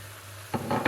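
Lentils are stirred into a hot pan over medium heat after wine has cooked off. A low hum runs first, then a few quick scraping, sizzling stirs arrive close and sharp.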